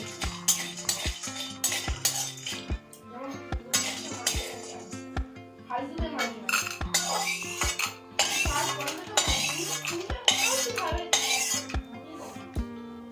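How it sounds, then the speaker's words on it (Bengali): Broken lentil dumplings (bori) go into oil in a wok, with a steady stream of metal utensil clinks and scraping stir strokes against the pan, plus light sizzling underneath, close and fairly clear. "তেল দিয়ে দিলাম বড়িগুলো ভেজে রেখে দেব"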